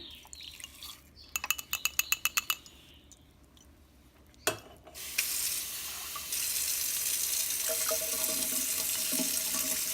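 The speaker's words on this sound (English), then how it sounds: "just pour them right through the strainer" Water is poured through a strainer to rinse sprouted seeds for birds. A few rapid clicks come first, then a sudden clunk, then a steady loud rush of water that continues to the end.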